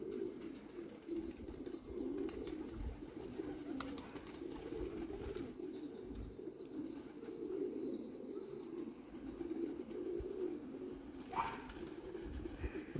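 A flock of pigeons keeps up a steady, low murmuring coo throughout, fairly faint and continuous, with occasional small knocks and rustles and no talking.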